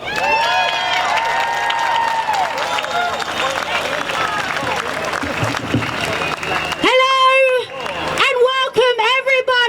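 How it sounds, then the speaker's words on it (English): A crowd claps and cheers loudly and steadily for several seconds, then a loud amplified voice cuts in over the fading noise. "let's give a big round of applause and appreciation for Simone Marshal."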